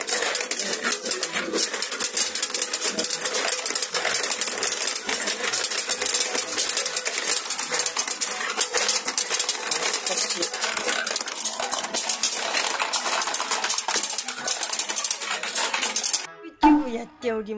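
A retro pachinko machine at the Hida-Takayama Retro Museum, with dense metallic rattling and clinking of balls pouring through it continuously and loudly, then a brief break and a few scattered clicks at the end.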